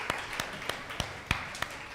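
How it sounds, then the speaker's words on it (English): Sparse clapping from a church service audience, a handful of distinct claps spaced irregularly over a couple of seconds, fairly close and fading between hits. "Give them another applause."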